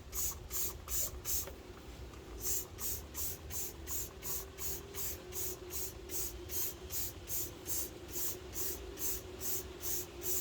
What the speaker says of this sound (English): Just going to cover the wheel wells as well. Just give it a nice spray,